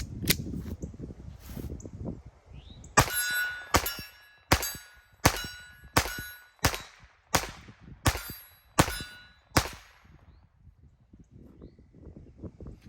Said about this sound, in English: the PPK had no problem running that Fiocchi ammo, ran all 10 rounds with zero issues whatsoever